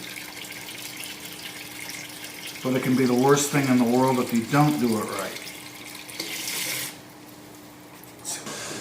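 Water runs steadily from a bathtub tap into the tub, a continuous hiss with a low hum, while a person talks over part of it and a brief louder splash follows near the end.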